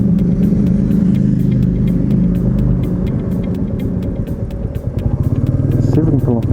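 A Royal Enfield Meteor 350 motorcycle idles with a thumping, rumbling beat, a regular ticking over it, then revs up and pulls away near the end while someone talks over it.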